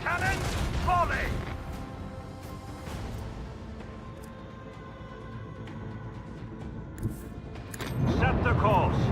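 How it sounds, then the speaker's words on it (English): A starship's macro cannon battery fires a volley in Warhammer 40k: Rogue Trader, with heavy booming bursts at the start and again at the end and a voice speaking between them. "Macro cannon, volley!"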